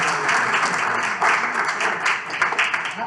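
An audience at a stained-glass window inauguration claps in a steady burst of applause that swells and ebbs over a few seconds, fairly close and loud.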